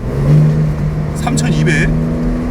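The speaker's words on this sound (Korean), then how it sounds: "배기 소리 너무 듣기 좋은데" Porsche 911 Turbo S Cabriolet 992 exhaust heard from inside the car, a steady low engine drone with a brief higher burst midway, while someone talks over it.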